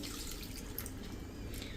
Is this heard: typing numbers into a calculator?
no